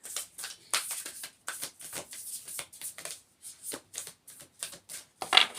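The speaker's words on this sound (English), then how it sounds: "I'm going to pull some Healing Waters Oracle cards" Healing Waters Oracle cards being shuffled by hand, a steady run of crisp, papery riffles and flicks, close and moderately soft, with no talking.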